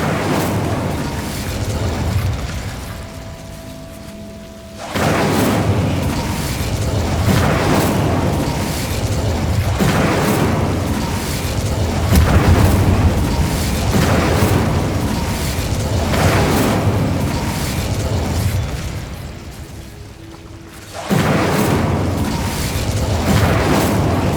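Incendio fire spell blasts in Hogwarts Legacy, loud roaring bursts of flame and booming impacts repeating in long surges, with brief gaps of quieter rumble between them.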